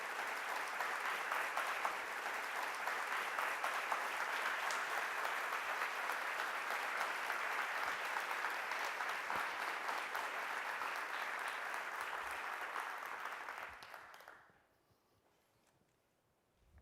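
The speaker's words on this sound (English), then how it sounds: "please welcome with a warm round of applause" An audience applauds steadily to welcome Professor Walter Lewin, a dense, loud wash of clapping that holds for about fourteen seconds before fading out into near silence.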